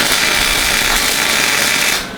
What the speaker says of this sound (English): Just got to weld them on.